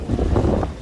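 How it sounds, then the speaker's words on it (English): Strong coastal wind on the seafront at Costa Adeje, Tenerife, buffets the microphone as a steady, loud low rumble that fills the whole moment with no voices. "it's getting so windy here"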